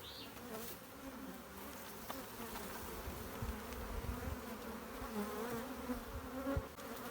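Honeybees buzzing around an opened beehive during a colony inspection, a dense, continuous drone with individual bees passing close by, over faint handling noises.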